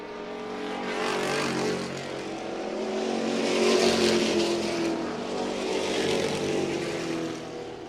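Ohio Wheelman, Crown Vic and Midwest Compact race cars lapping a track, their engines blending into a sustained loud roar that swells and eases as the pack moves around, with no voices.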